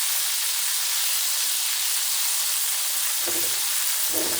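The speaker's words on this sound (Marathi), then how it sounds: "आणखीन याला एक मिनिट आपल्याला या या तेलात फुल फ्लेमवरती फ्राय करायचं आहे" Banana chips, seasoned with salt and turmeric, fry in hot oil over a full flame, giving a loud, steady sizzle and hiss with a few brief bubbling bursts near the end.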